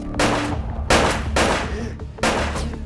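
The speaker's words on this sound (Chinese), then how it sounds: "罗格听到枪声后，也迅速赶过来帮忙，最终大迪被张力开枪击毙。" Several loud pistol gunshots ring out in quick succession in a gangland shootout scene, each blast followed by a brief echoing decay, four bursts in under three seconds.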